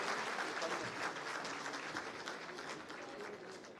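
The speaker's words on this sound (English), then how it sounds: "Clap louder, they won't know what's happening here." Dense applause from a conference audience, steady and loud throughout with many hands clapping at once, no speech on top.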